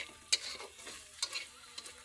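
Eggs fry in a pan while a utensil stirs and scrapes them, giving a faint sizzle broken by a few sharp scraping strokes over about two seconds.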